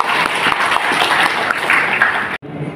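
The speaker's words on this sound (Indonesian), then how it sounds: "Tepuk tangan untuk Indonesia." A seminar audience in Indonesia claps in a loud, dense burst that ends abruptly, with a brief quieter tail afterward.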